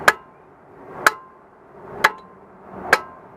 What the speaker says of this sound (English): You tap it with the mallet, it's a lot easier